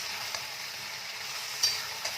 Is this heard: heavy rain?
no